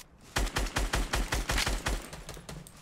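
Rapid automatic gunfire in Fortnite aimed at a wooden wall: a dense burst of a dozen or so close, loud shots in quick, even rhythm, fading slightly toward the end, with no voices.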